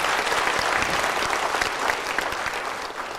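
Congregation at a Korean dawn church service applauds, a dense, steady wash of many hands clapping at close range that holds its level throughout without talk.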